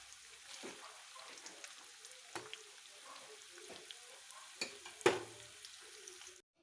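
Food frying in refined oil in a kadai gives a faint, continuous sizzle and crackle with a few soft pops and stirring knocks, and no talking.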